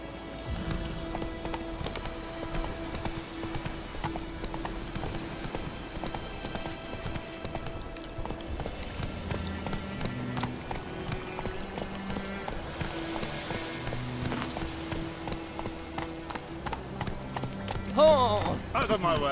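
In The Witcher 3, the horse Roach gallops with a steady, continuous clip-clop of hooves, moderately loud throughout, with faint voices and game sounds underneath.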